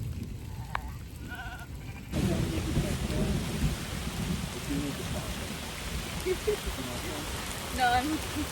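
A summer storm near Tübingen brings a deep, sustained rumble of thunder with heavy rain hissing steadily, while a few sheep bleat in the background.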